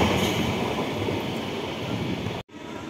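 Howrah–Jabalpur Shaktipunj Express passing through Liluah station, a steady rumbling rush of rolling wheels and carriages that stays loud, then cuts off sharply near the end.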